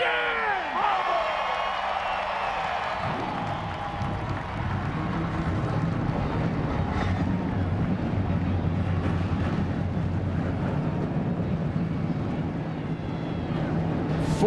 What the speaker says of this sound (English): 43 cars roar to life.